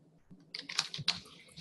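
Fast clicking keystrokes on a computer keyboard during a research showcase discussion, a quick close burst of taps with faint voices in the room behind.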